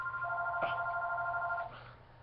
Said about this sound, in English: that's just the phone